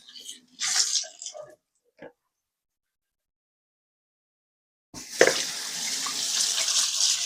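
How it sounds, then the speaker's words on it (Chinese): Tap water runs into a kitchen sink as dishes are rinsed, with a few short splashy bursts, a pause of silence, then a steady, close, loud stream of running water. "习惯多涮几次，用水多涮几次，这样能涮干净。"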